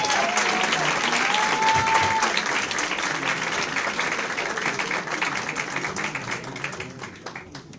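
Sustained applause from an audience for the newly appointed representatives at a women's board swearing-in ceremony, with dense clapping that stays strong before gradually thinning toward the end.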